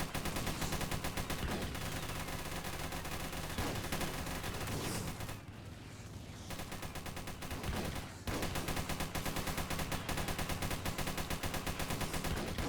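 Tank guns blaze in the Armored Patrol combat game as a dense, unbroken barrage of rapid shots and blasts, loud and continuous, dipping briefly in the middle before the heavy fire resumes.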